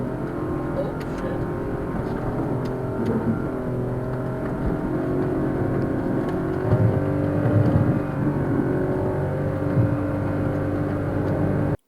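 A Lexus V8 engine pulling a Talon side-by-side on a trailer through off-road terrain, a steady low drone that swells slightly as it revs near the end, with faint background noise throughout.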